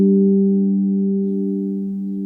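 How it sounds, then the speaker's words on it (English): The low G on a Kosmosky New Wave 15 steel tongue drum rings out as a pure, sustained tone that fades slowly over a couple of seconds, heard alone. "the lowest tone on the New Wave 15 is this one, the G."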